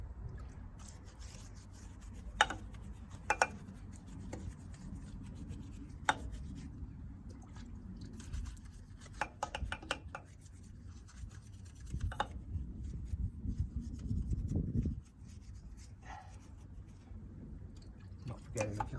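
A detailing brush scrubs a BMW M4 Competition alloy wheel coated in ceramic wash and wax, close, uneven wet rubbing strokes with occasional drips and brief louder swishes.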